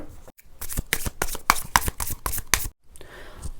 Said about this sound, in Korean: 추억 카드를 한번 뽑아볼게요